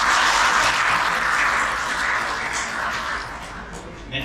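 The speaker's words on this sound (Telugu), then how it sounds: "చప్పట్లు కొట్టాలనిపించినప్పుడు మనస్ఫూర్తిగా చప్పట్లు." An audience claps at a presentation event, a dense, steady wash of applause that starts strong and tapers slightly toward the end, with no voices over it.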